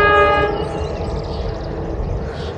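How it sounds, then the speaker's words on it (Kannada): A train passes near a hillside lookout at dawn, opening with a loud sustained multi-tone horn blast that fades into a steady rumbling roar of wheels and railcars. "ಇವಾಗ ನಿಮಗೆ ಟ್ರೈನ್ ಕಾಣಿಸೋದು ನೋಡ್ರಿ ಗೈಸ್, ಅಲ್ಲಿ ನೋಡ್ರಿ"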